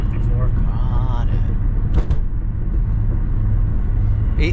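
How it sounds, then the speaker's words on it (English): An inline-six car engine with an R154 five-speed gearbox and the catalytic converter removed runs with a steady low rumble throughout, while people talk over it. "It has that nice inline 6 tone."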